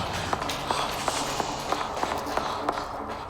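Footsteps run close behind in a quick, even rhythm of light taps, about seven of them, heard under a hushed, noisy background in a spooky storytelling setting.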